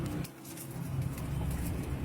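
Pigeons coo in soft low pulses that repeat close by, partly blended into a muffled outdoor background with faint traffic.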